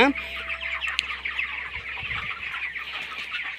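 Broiler chickens clucking in a Tamil poultry farm shed, a steady dense chorus of close and distant clucks throughout, with a low hum in the background.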